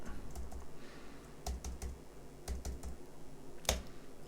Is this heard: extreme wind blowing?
no